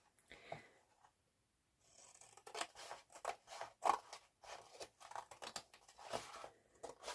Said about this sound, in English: Okay, and then just snip that little part out.